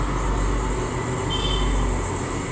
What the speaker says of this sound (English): The train rolled into Rajamundry station.